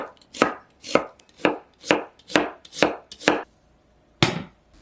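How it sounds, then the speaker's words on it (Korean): A knife chops rhythmically through halved onions, slicing them thinly on a cutting board, about eight sharp, even cuts in quick succession, a short pause, then one final chop. "양파 3개는 반으로 자른 다음 가늘게 써세요."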